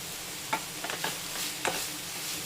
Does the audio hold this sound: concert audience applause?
no